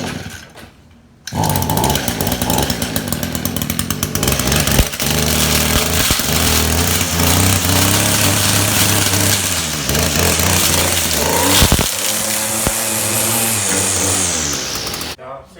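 An Echo weed eater's small two-stroke engine catches after a brief pause and runs at a loud, steady buzzing rev with a few throttle changes, then cuts off near the end.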